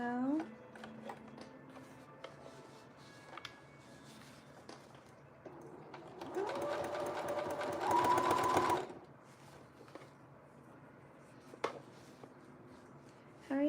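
A sewing machine stitches late at night. Soft handling noises and faint taps lead into a dense, rapid mechanical whirring burst of about three seconds, followed by quiet rustling.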